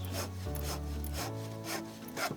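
Wood being hand planed in the video game House Builder: four or five rhythmic rasping strokes, each a breathy scrape, heard close and alone over a faint low tonal hum.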